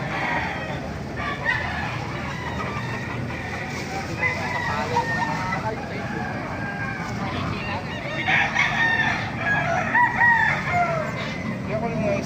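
Several roosters crow over a steady din of clucking chickens at a market in Baliuag, Philippines, with calls overlapping near and far throughout.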